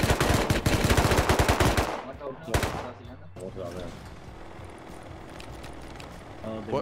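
Automated turrets firing in the video game Rust, a loud rapid burst of shots for about two seconds, then a single later shot, followed by quieter ambient noise with speech mixed in.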